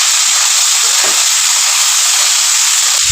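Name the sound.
cooked vegetables frying in oil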